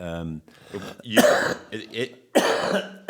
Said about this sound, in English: I'll let you cough. Cough for a while.